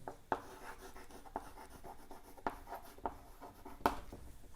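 A pen or marker writes student names on a board during a maths lesson, giving soft scratchy strokes with a few sharper taps, close but quiet.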